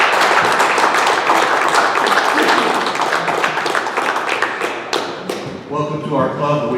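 Audience at a Rotary club meeting claps for newly inducted members, dense close applause that thins out toward the end as a voice begins speaking.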